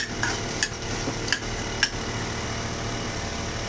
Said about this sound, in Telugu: చింతపండు కూడా వేసేసుకున్నాం. చింతపండు బాగా వేగాలి.